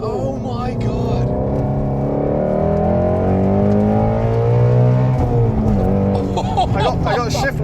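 Ford Shelby GT350R V8 revving hard on the move, a loud, close engine howl rising and falling in pitch through the gears, with a brief shift near the end; no talking over it.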